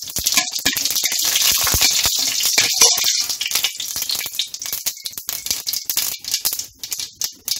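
Mustard seeds and lentils frying in oil for aval sundal, a dense close crackling and sizzling that is loud at first and then thins into scattered pops.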